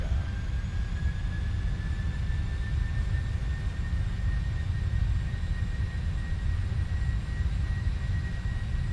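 The jet engines of a PMDG 747 Freighter at takeoff thrust in the Prepar3D flight simulator give a steady, loud roar with a sustained high whine over deep rumble, constant and unbroken throughout.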